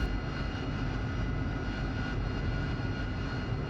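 AV-8B Harrier jet engine in the DCS flight simulator, running steadily at about 60% throttle with the wheel brakes held before takeoff, a loud continuous roar and whine with no talk.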